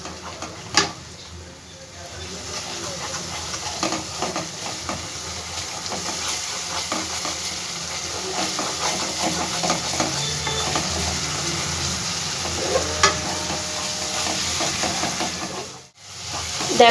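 Spices with Kashmiri chili powder frying in oil while being stirred, a continuous close sizzle with scraping stirs, briefly cutting out near the end.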